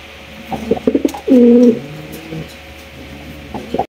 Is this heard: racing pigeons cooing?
yes